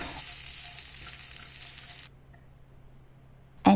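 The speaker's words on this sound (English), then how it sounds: "Half a portion of spring onion that I saute just for 2 minutes time" Spring onion, green chilli and nuts sauté in hot ghee with a steady, dense sizzle that cuts off abruptly partway through, leaving a quiet hum before a short loud knock at the end.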